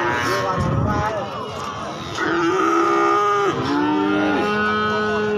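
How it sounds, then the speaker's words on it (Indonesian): Cattle at the Gorang Gareng cattle market in Magetan, several drawn-out moos, one long low call followed by another, loud and close over background crowd chatter and market noise. "Sapi-sapi istimewa"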